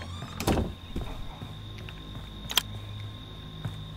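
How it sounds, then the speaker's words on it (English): A door shuts with a soft thunk in the Friday the 13th video game, followed by a faint click amid low background hum and game ambience, with no talking. "Close the door."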